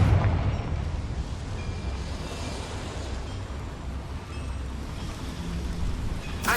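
Confringo blasting spell explosion in Hogwarts Legacy, a sustained rumbling, crackling blast with a heavy roar throughout, loud and close, with no talk over it.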